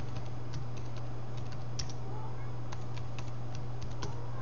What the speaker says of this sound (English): For the username, I'm just going to put John Doe, and we'll give it a password